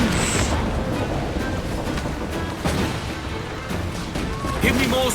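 Ship cannons firing in Assassin's Creed Black Flag during a naval battle, booming shots over a continuous wash of ocean waves and wind, with voices speaking throughout.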